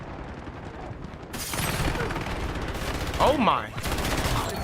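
SMG fire in a video game crackles in rapid bursts, with dense repeated shots that get louder partway through, and a voice speaks briefly over it.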